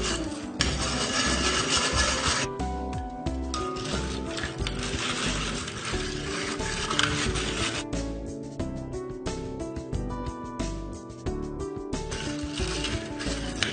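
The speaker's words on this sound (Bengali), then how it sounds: "এবারে আমি ডিমগুলোকে একটা হ্যান্ড বিটার দিয়ে বিট করে নেব।" Eggs are beaten with a manual hand beater for cake batter, giving a steady, close, rhythmic whirring and scraping that runs continuously for over ten seconds with brief pauses and no talk.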